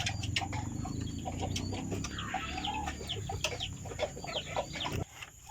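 Mixed-breed Battle Cross chickens cluck and chatter on a farm, several birds making overlapping short clucks and squawks close by over a constant low background rumble, the noise dropping away abruptly near the end.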